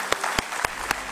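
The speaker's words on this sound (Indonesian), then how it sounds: "Tepuk tangan buat Mas Tama." Four sharp, evenly spaced hand claps at a talk show honoring Wishnutama, crisp and close against a faint background.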